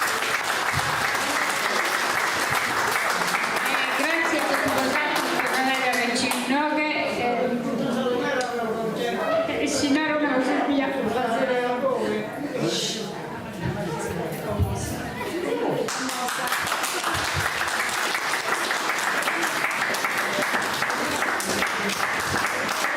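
Sustained audience applause fills the hall after a folk singing and dancing performance, dense and steady clapping that briefly thins in the middle while voices talk and call out over it, then surges back to full strength.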